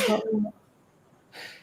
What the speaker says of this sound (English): Everyone's got the fucking sneezes at once.